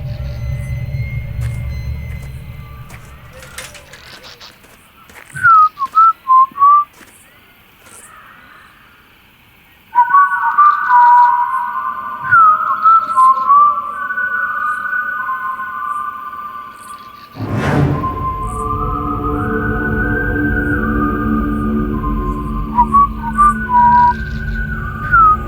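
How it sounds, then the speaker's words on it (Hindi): A person whistling in several short, thin melodic phrases at a Banaras railway station at night, heard against a steady low hum and rumble, with a loud crash partway through. "सीटी कौन बजा रहा है?"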